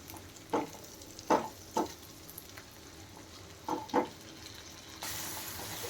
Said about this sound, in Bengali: একটু নাড়বেন যাতে মশলাটা না জ্বলে যায়।